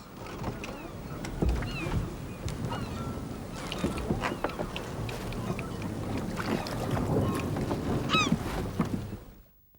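Seagulls call around a sailing boat at sea, with several short, high, sharp cries scattered over a continuous wash of water and boat noise, one nearer call standing out toward the end.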